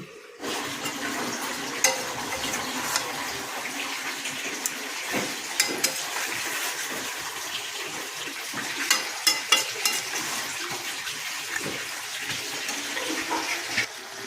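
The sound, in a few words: chicken curry with whole chillies braising in covered pot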